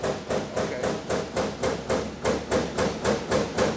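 A machine cuts a radius along the edge of a metal part, making a close, rhythmic pulsing chatter of about a dozen evenly spaced beats over a steady hiss.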